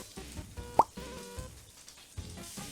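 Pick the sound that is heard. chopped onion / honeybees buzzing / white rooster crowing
chopped onion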